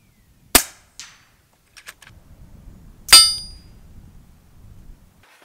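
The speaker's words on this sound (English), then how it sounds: "So this is a very quiet rifle, and it's very pleasurable to use in a hunting scenario." Shots from an FX Crown MkII air rifle, in .22 or .30 calibre: three sharp, close cracks a few seconds apart, each ending in a brief metallic ring, with a faint tick and a low background rumble between them.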